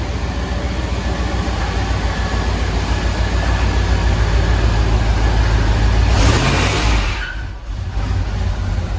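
A truck engine runs steadily as it is driven out of a garage, a broad loud rumble that swells, then drops away near the end before picking back up.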